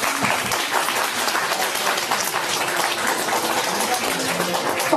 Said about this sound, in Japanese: もう一度だけ皆さん拍手をお願いします。